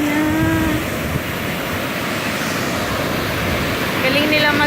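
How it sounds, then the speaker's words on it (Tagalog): Ocean surf breaking at Baler, Philippines, a steady broadband wash of waves running continuously, with voices talking over it at the start and end. "Naririnig ko na yung dagat."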